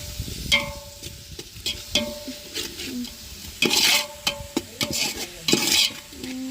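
Soya chunks frying in oil in a covered home-kitchen pan, heard as close stirring scrapes and spoon knocks over a soft sizzle, with louder bursts of sizzling toward the end and no speech.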